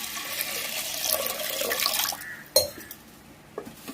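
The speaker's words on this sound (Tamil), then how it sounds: "இப்போ அதுக்கு தேவையான அளவு வேகிற அளவு தண்ணி ஊற்றிக்கலாம்" Water runs and splashes steadily into a cooking pot for a couple of seconds, then stops, followed by a few light clinks of metal.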